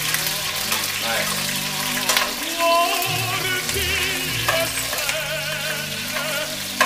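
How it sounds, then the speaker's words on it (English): Zucchini flowers stuffed with burrata cheese fry in a pan, giving a steady, close sizzle and crackle throughout, with faint talk in the background at times. "we're going to cook them for about 2 to 3 minutes on each side until nice and golden brown"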